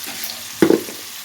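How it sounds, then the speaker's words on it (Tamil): Ginger garlic paste and tomato sautéing in a pan for a chest-bone pepper kuzhambu give a steady background sizzle, then one brief louder scrape-and-sizzle burst as the pan is stirred, close by with no talking. "இது வந்து கொஞ்சம் நல்லா வதங்கட்டும்."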